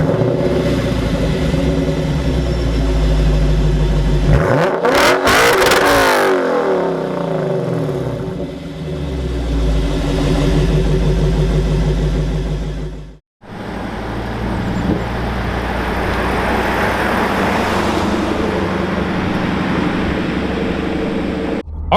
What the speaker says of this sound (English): So let's go ahead, grab a quick exhaust clip